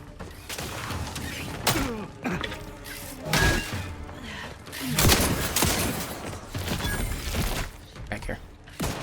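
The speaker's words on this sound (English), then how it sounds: "The shotgun." Shotgun blasts from The Outer Worlds 2, several heavy booming shots spaced irregularly amid game effects and a talking voice.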